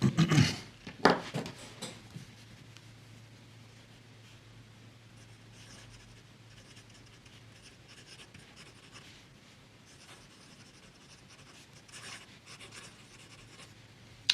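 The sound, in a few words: fountain pen writing with Caran d'Ache Magnetic Blue ink on Rhodia pad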